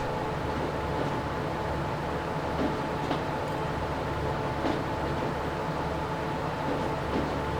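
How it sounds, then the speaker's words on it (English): An electric train running in the Transport Fever 2 video game, with a steady low rumble and faint hum that hold evenly throughout, broken by a few soft clicks. "I got my first electric train"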